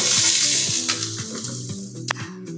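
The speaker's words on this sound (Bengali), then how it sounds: "একটু পেঁয়াজ ভেজে নিব" Onions fry in a pan for a bitter gourd stir-fry, with a strong, steady sizzle close by and a few scraping stirs and clinks scattered through it.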